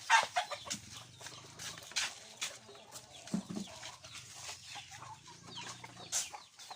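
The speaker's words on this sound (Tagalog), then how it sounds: "Diyan pala yung mga manok natin" Chickens cluck and chatter in a busy, irregular stream of short calls, some nearer and some farther off, with soft background noise.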